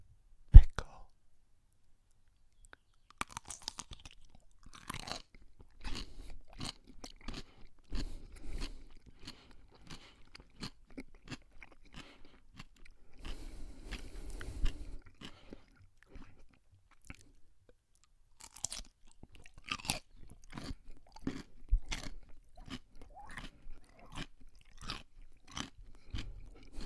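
A pickle being bitten and chewed up close, with sharp wet crunches in uneven bursts separated by quiet pauses, plus soft mouth clicks and a few brief whispers.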